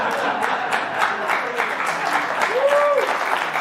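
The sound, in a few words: audience applause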